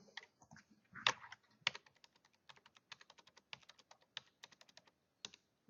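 Typing on a computer keyboard while entering real estate tax information, a close, steady run of quick clicking keystrokes with short pauses and a few louder key hits.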